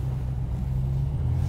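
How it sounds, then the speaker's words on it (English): Exhaust of a 1970 Dodge Coronet Super Bee: a deep, steady low-pitched rumble at idle, heard up close and holding an even level for the short stretch. "Just listen to that exhaust,"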